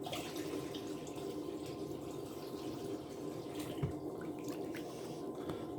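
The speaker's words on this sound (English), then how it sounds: "so get some more water out of here" Dirty water poured and sloshed out of a gold pan while panning river gravel for gold, a steady close splashing trickle with a few brief louder splashes, no talking.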